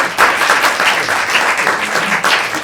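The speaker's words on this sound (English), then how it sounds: "And so I would like to give another round of applause to the Gesualdo Six" A concert audience gives the Gesualdo Six vocal ensemble a dense, steady round of applause, loud and sustained throughout with no talk over it.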